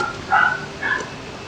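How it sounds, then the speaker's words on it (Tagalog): A dog gives two quick, fairly faint barks in the background of a quiet room, a short gap between them, with nothing else prominent around. "Ingay naman ang aso."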